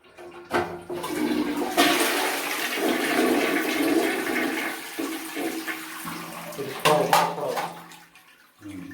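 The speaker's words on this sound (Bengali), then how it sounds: "মানে পানি ওভারফ্লো হইতেছে" Water gushing and overflowing in a toilet flush tank, a loud, sustained rushing and splashing with brief bumps and knocks near the start and toward the end.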